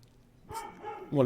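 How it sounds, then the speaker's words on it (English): Several dogs barking and yipping in the background of a talk show, a short burst of excited barks mixed with a person talking nearby. "The dogs are going crazy in the background."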